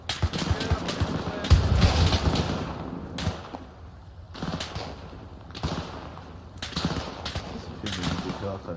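Bursts of rifle and machine-gun fire aimed at an armoured vehicle in the Arma III video game, set in a 1944 campaign, crack in irregular volleys with loud clusters separated by quieter pauses, some shots near and punchy.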